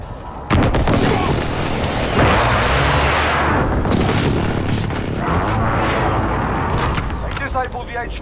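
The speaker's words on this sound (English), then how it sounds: "Nearby, friendly precision airstrike inbound." Precision airstrike explosions in the shooter Call of Duty: Modern Warfare, a long unbroken roar of heavy blasts and rumbling booms lasting several seconds, with voices partly under the din.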